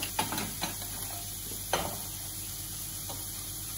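Flour being stirred into melted butter in a pan to form a smooth paste for a vegan white sauce, with a few sharp utensil scrapes early on, then a quieter steady sizzle and stirring.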